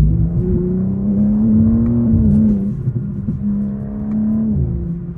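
A stage 2 tuned BMW M4 Competition G82 engine while driving, a loud close droning hum that holds steady, dips briefly and then rises again.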